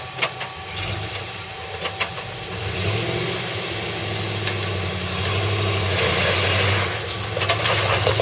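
A car engine runs steadily at low revs, with a slight rise in pitch partway through, a continuous close rumble with no talking.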